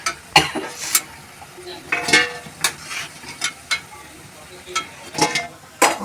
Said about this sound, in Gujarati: તેલ ગરમ થઈ ગયું છે. આપણે વડાને તળીએ છીએ.